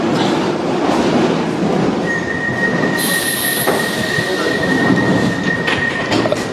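A London Underground train at Northfields station at night rumbles steadily and loudly, with rail noise throughout and a sustained high wheel squeal that sets in partway and holds to the end.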